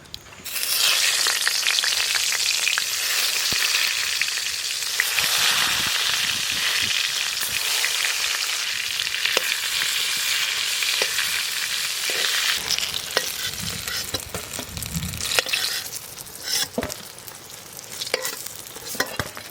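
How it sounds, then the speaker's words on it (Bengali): Eggplant slices fry in hot mustard oil in a wok: a loud, steady, close sizzle runs unbroken throughout, with occasional scrapes and stirring clatter. "আমি ওই কড়াইতেই বেগুনটারে ভাজে নেবো সর্ষের তেল দিয়ে"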